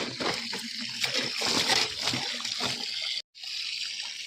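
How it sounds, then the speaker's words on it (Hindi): Wheat grains are washed in water by hand, with continuous sloshing, splashing and trickling close by, briefly broken by a short pause near the end. "तो चलिए फटाफट से अब मैं गेहूँ धुल के रख देती हूँ।"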